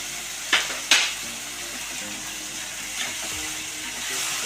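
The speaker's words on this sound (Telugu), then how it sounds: "ఇట్లా బాగా కలిపిస్తున్నాం." A spoon stirs tomato and dal curry in a pan with a couple of sharp metallic scrapes, then a quieter clink over a low, steady cooking hiss, close by with no talk.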